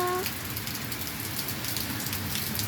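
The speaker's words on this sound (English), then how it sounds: "You see all that rain" Steady rain falls outside after several days of downpour, a dense, even hiss of drops striking surfaces, heard close and continuous with no talking over it.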